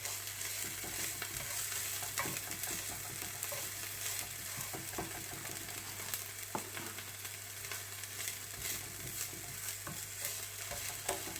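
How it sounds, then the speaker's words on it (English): Onions sautéing in a pan with a little garlic, a continuous bright sizzle with occasional stirring clicks and scrapes, steady and close without speech. "You can saute that for a bit. You can add garlic if you like, a little bit of garlic."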